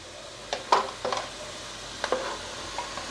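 Onions browning in a pan for chicken fry, with a low continuous sizzle broken by several scraping stirs of a spatula against the pan, all close and without talk.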